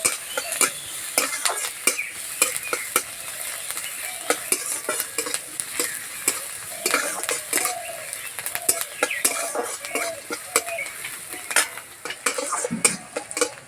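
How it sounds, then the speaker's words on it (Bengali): Chopped onion and green chilli fry in hot oil for a prawn cutlet filling, a steady close sizzle broken by frequent scrapes and clinks of a spatula against the pan throughout. "তেলে দেবো কোচানো পেঁয়াজ কোচানো কাঁচা লঙ্কা পেঁয়াজ হালকা লাল করে ভেজে নেব"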